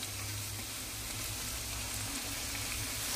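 Onion fritters (peyaji) frying in hot oil while being stirred, giving a loud, dense, continuous sizzle heard up close with no talking.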